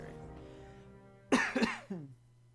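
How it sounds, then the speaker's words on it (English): A few sharp coughs close by, bursting out in a quick cluster after a quiet stretch, followed by one more cough. "I got a tickle in my throat. And I cough all the time anyway."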